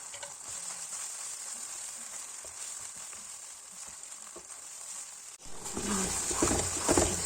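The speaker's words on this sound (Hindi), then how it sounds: "अब हम डालेंगे देसी घी पैन में और इसका लगाएंगे तड़का।" A steady hiss of garlic and ginger frying in hot desi ghee for sarson ka saag, swelling louder and crackling more near the end, as if more was added to the pan.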